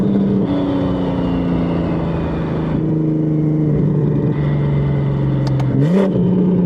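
A 1500hp BMW M140i tuned to 40 psi boost accelerates hard in a high gear with its wheels spinning, giving a loud, sustained engine drone that climbs and shifts pitch, ending in a brief rising surge.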